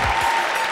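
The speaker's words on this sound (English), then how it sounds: "We need a round of applause for that" University audience applause rings out as a brief, dense patter of many hands clapping, with a faint low thump at the start and a thin sustained tone in the background.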